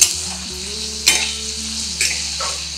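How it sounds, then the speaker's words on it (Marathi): Onions sautéing in a pan for tomato chutney sizzle loudly and steadily, with two or three sharp scrapes as they are stirred and turned, and no one speaking. "थोडंसं कांदा मऊ होईपर्यंतच आपण परतणार आहे"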